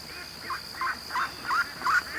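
Muscovy ducks near a creek give a run of five or six rhythmic, breathy honking calls, each rising slightly louder than the last, over a constant high whine and outdoor background noise.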